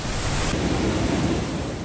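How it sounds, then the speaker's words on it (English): Cheonmun Waterfall near Seoul sends up a steady, dense roar of falling water, a constant wash of noise with no voices over it. "This is the Cheonmun Waterfall."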